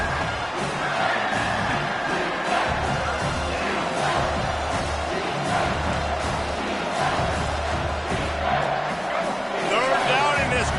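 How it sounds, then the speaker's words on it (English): Stadium crowd roaring at a football game on third down, a loud, dense, sustained wall of cheering and yelling that stays at full intensity throughout, with a commentator talking over it. "this crowd is tearing the lid off this place"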